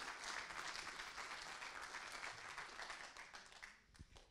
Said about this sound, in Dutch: geef Bernice een heel hartelijk applaus